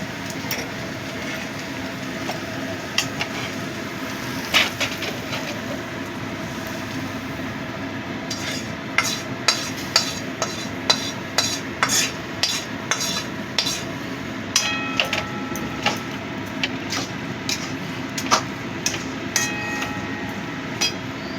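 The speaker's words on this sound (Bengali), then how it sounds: "আমার কড়াইটা ছোট হয়ে গেছে তো, তার জন্য আমি এটাকে বড় কড়াইতে নিয়ে নেব।" Fried mutton mince is moved from a small wok into a bigger one, bringing repeated sharp metallic clanks and scrapes of utensils against cookware over a steady kitchen hum, growing busier in the second half.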